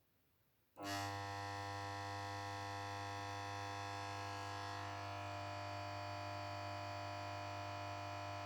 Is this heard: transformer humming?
yes